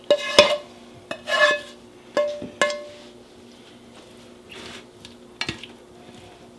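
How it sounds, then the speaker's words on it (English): Asparagus bake ingredients, ham and asparagus, being stirred in a dish, with several sharp utensil clinks and scrapes spaced over a few seconds, then a quieter stretch and one more clink. "I'm just going to stir that all around"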